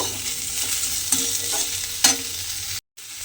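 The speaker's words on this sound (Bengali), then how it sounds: "আলুটা দিয়ে কিন্তু আলুটা প্রথমে একটু এইভাবে পেঁয়াজের সঙ্গে ভেজে নিতে হবে।" Potatoes fry with onions in a pan, giving an even, close sizzle broken by a couple of light spoon knocks, then a brief moment of silence.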